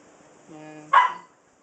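A puppy barks once, a short sharp yip preceded by a brief whiny tonal whimper, close and clear against near silence.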